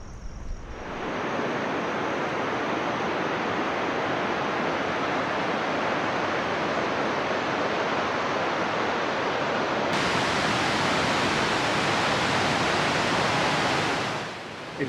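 The Texolo waterfall near Xico, Veracruz, roars as a steady, dense rush of water, loud and unbroken for the full stretch with no voices, then fades out at the end.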